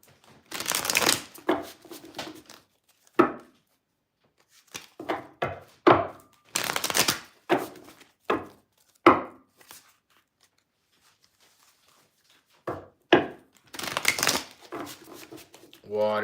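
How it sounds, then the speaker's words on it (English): Tarot cards being shuffled by hand in a series of crisp riffling bursts separated by pauses, close and clear, with a voice talking in between. "Let me shuffle these cards."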